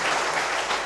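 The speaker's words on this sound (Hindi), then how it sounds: "ताली सेवा हो जाए पूज्य महाराज जी के लिए।" A crowd at a Ram Katha gathering in Ayodhya bursts into dense, even clapping for a revered guru. The brief applause is heard alone at moderate loudness.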